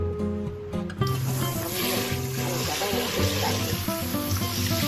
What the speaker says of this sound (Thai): เราก็จะต้มจนเส้นเขาอ่อนตัวนะคะ ใช้มือจับดูค่ะ เราก็จะมาเสด็จน้ำนะคะ